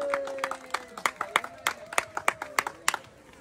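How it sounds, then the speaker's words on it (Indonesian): A small audience claps at a fishing tournament prize ceremony, with sparse, distinct handclaps coming in an uneven rhythm for a few seconds, fairly near. "Mungkin bisa kita kasih tepuk tangan bersama-sama."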